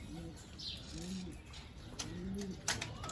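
Several pigeons inside a basket give soft, low repeated coos, a few rounded calls close by over a faint background with some light rustles.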